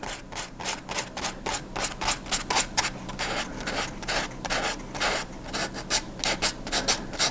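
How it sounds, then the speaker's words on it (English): Sandpaper scrubs back and forth over the painted, stained wooden body of a guitar kit in quick rhythmic strokes, each one a close, raspy rub, repeated steadily for several seconds. "the difference between sanding the paint and sanding the wood and the stain"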